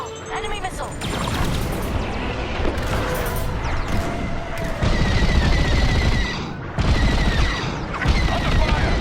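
Heavy blaster and cannon fire in a Star Wars: Squadrons space dogfight, dense rapid bursts and booms pounding throughout, loud and continuous with swelling impacts.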